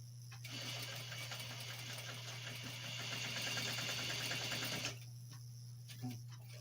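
A sewing machine runs a double row of stitching on boxer shorts, a steady rapid mechanical whir lasting about four seconds before stopping, with a low constant hum underneath and a few faint clicks afterward.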